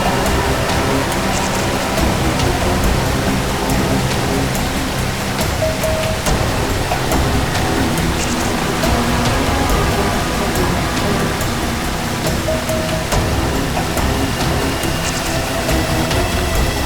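Waterfall rushing beside a forest path, a steady, loud, broadband roar of falling water that runs unbroken and alone throughout.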